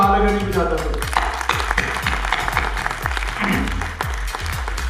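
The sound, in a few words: audience applause at a film launch ceremony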